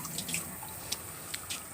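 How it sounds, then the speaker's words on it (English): Water runs from a sink tap while chickens are skinned and processed: a faint, steady trickle with a few soft drips and splashes, no voices. "I keep water running right here just so I keep my hands clean of feathers."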